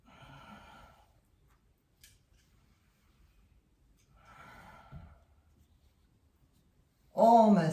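Slow nasal exhales during a Kundalini yoga breathing exercise: soft, breathy whooshes, one near the start and another around the middle, separated by quiet, followed by a short voiced sound at the end.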